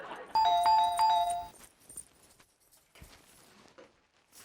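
A house doorbell rings with a bright electronic chime lasting just over a second, then fades to faint shuffling footsteps and light room noise.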